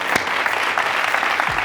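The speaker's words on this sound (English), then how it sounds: "Clap it up for Josh Levy. Clap it up, baby." Dense applause from a fired-up live audience at a business talk, steady broadband clapping filling the short stretch with no voices over it.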